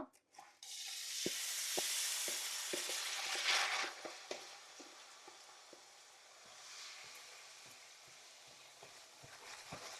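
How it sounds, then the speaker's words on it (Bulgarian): Rice fries in hot oil, a loud burst of sizzling when it hits the pan that settles into a softer steady hiss, punctuated by repeated scraping and tapping of a stirring utensil. "Запързваме го, докато стане прозрачен."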